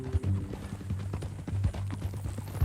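Horse hooves clip-clop in Red Dead Redemption 2, a steady walking rhythm of close, moderately loud hoofbeats with a low rumbling tone running underneath.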